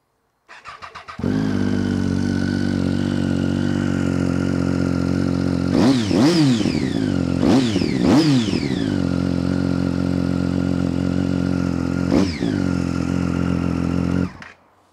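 A 2012 Triumph Street Triple motorcycle is started; after a brief crank the engine catches and idles steadily, then is revved in a few sharp blips that climb and fall away, loud and close, before it is switched off.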